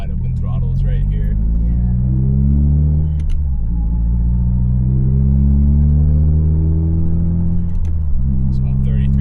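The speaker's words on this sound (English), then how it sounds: "Probably be my best chance to be able to go wide open throttles right here." A 2022 Subaru WRX fitted with a big turbo pulls hard at wide open throttle, its loud engine drone climbing through the gears with brief dips at each shift, close and continuous from inside the car.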